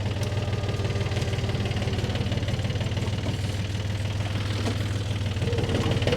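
Loader engine labouring steadily as it pulls frozen mud uphill, a continuous low throbbing diesel rumble with a rhythmic knock, loud and close, holding the same pitch throughout.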